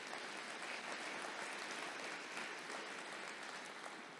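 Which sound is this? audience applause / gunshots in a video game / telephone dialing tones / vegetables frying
audience applause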